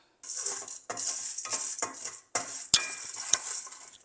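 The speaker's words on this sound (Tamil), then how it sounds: "இப்போ கடலை பருப்பை வறுக்க போகிறேன்" Chana dal being roasted in a pan, with a spoon scraping and stirring in bursts over a faint hissing sizzle and a couple of sharp clinks against the pan.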